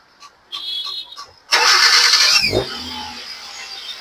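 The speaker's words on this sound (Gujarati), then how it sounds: "ગાડી i10 એન્જિન સ્ટાર્ટ થઈ ગયું છે. ચાલુ કરીને બતાવીએ." A Hyundai i10 1.2 engine, freshly overhauled, cranks with a whirring starter, catches with a loud burst and then settles into a steady close-up idle.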